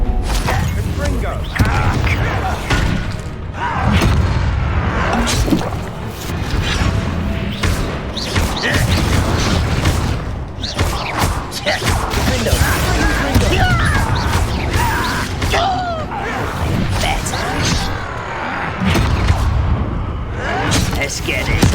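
Harry Potter video game duel with repeated blasting-curse explosions, heavy booms and crashing impacts recurring throughout a long, loud stretch of busy combat effects.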